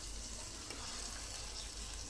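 Hilsa fish pieces sizzling in hot oil with spices, a steady broadband hiss of frying that runs evenly throughout with no talk.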